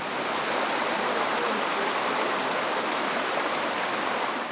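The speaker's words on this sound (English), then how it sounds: "Hiking right along this stream, really pretty setting" A mountain stream beside a hiking trail in the Adirondack High Peaks Wilderness, New York, rushes in a steady, broad, close wash of flowing water with no pauses.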